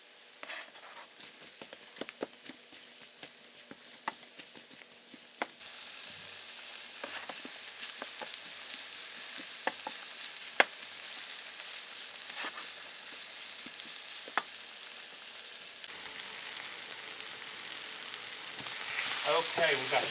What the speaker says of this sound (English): I melted half a stick of butter. We're going to slowly caramelize these onions.